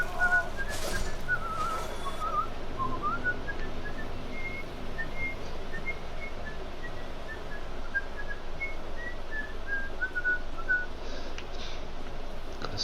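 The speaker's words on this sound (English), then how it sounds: "Gotta stop with the whistling." A person whistling a meandering tune softly in a room, the thin melodic line wandering up and down for several seconds over steady background noise.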